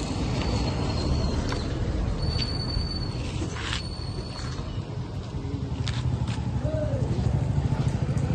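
Motorcycles in a BJP bike rally in Chandurthi pass as a steady, dense engine drone with crowd noise, occasional clatter and faint horn-like tones.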